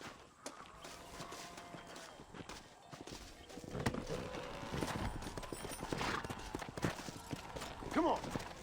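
Horse hooves clip-clopping in the Red Dead Redemption video game, several animals walking at a steady uneven rhythm with a brief whinny near the end, while voices speak over the hoofbeats.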